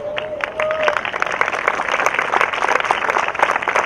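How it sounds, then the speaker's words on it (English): An audience at a high school graduation ceremony breaks into loud, dense applause that swells after a brief lull and stays full and sustained, with a faint voice briefly audible early on. "let's give a round of applause for Miss Pick"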